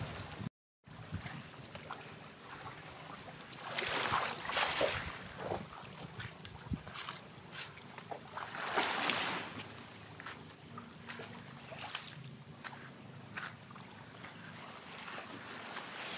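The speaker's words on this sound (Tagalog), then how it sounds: "Bangka." A bangka outrigger boat travels on the open sea, with wind buffeting the microphone and waves surging and splashing in repeated swells around a steady background rush.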